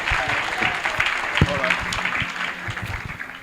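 Audience at an annual meet-and-greet applauds as the advocate walks to the stage, steady clapping throughout with voices and cheering mixed in and a sharp thump near the middle.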